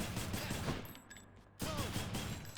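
Repeated gunshots from a boom gun, the Exagryph Adamant Rail, fire in quick bursts with electronic game music in the Hades video game, alone without talk, stopping for a short reload gap before resuming.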